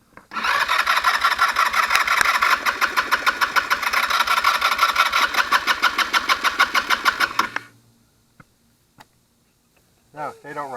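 Starter on a Taotao 150cc ATV cranks the engine in a fast, loud, rhythmic chug for about seven seconds without catching, then cuts out. Faint knocks and a brief voice follow.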